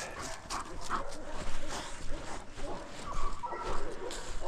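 A strong dog whimpering and yipping in short, repeated bursts, close and fairly loud, over a busy background of movement and other dogs.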